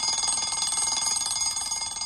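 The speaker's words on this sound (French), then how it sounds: "Wafi lui prête un réveil" A cartoon alarm clock rings in a continuous fast metallic bell trill, bright and loud, with no voices.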